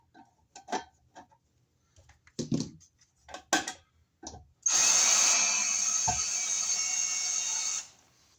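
A power drill driving a screw into wiremold for kitchen outlets: several short ticking clicks and bursts, then a sustained high-pitched whir for about three seconds, close and fairly loud, before it stops.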